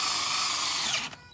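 A power drill whines loudly and steadily as it bores a hole in wood, then spins down and stops abruptly.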